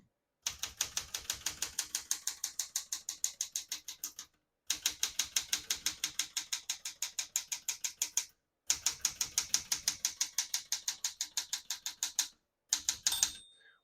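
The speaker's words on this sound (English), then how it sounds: "We're going to keep that on single for now and finish typing." A 1975 Smith-Corona Galaxie 12 portable typewriter types in quick, steady runs of crisp key strikes, three long bursts separated by brief pauses, then a short final flurry, close and clear with no voices.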